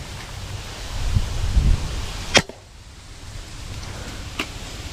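Gusty wind rustling through leaves and buffeting the microphone, swelling then easing, with a couple of sharp clicks; no voices.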